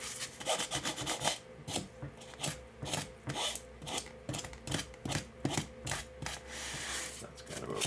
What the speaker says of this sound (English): I'm just sawing now a little bit.